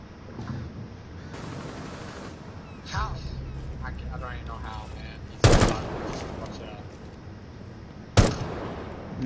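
Gunfire in Rainbow Six Siege on a favela map: two sharp, loud shots with heavy recoil ring out several seconds apart over steady background game noise, and someone talks in between them.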